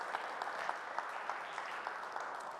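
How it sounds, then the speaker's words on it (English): An audience at a tech talk applauds, with steady, dense clapping from a crowd at an even level, brisk and continuous with small bursts of louder claps. "round of applause"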